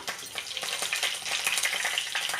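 Food frying in a pan while cooking palak paneer, a steady close crackling sizzle with small irregular pops and bursts throughout, with no talking.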